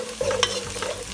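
Garlic and red pepper flakes sautéing in a pan, set down to cook for linguine with fresh clam sauce; a steady close sizzle with spoon-stirring scrapes and a few sharper clicks against the pan.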